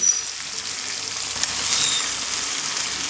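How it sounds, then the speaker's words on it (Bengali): Pre-fried jackfruit tossed into potatoes frying in oil in a pan, a loud continuous sizzle and crackle at close range with faint stirring, steady throughout and without talk. "এবার আমি এখানে দিয়ে দেব আগে থেকে ভেজে রাখা এঁচড়"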